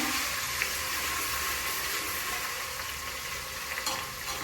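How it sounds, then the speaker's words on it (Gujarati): Ginger, chili and garlic paste fries in hot oil for Manchurian, giving a steady, close, dense sizzle that holds evenly with a few small pops and no talking. "તેલ તો આવેલું હતું ગરમ હતું એટલે આદુ મરચાં અને લસણની પેસ્ટ પહેલાં નાખી દેવાની"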